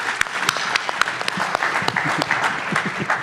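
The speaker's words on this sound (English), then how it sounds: "So give them a round of applause as they're walking up here." Conference audience at Authenticate 2023 applauding panelists as they walk on stage, a steady wash of clapping with a few sharp individual claps and some low voices mixed in.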